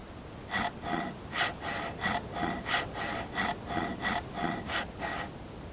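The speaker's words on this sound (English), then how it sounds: "we'll have to use a hacksaw for the last one" A hacksaw saws back and forth in the survival video game DayZ, about ten rhythmic raspy strokes at an even pace, moderately close and heard alone.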